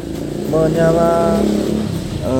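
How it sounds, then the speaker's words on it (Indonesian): A motorcycle engine drones past nearby, its pitch rising and falling as it goes by, with a person talking over it. "Maaf ada motor lewat."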